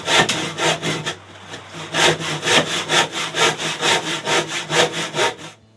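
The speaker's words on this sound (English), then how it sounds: "let's just get to cutting the shelf" A hand saw cuts through a wooden shelf with rhythmic back-and-forth rasping strokes, about two per second, loud and close with no talk.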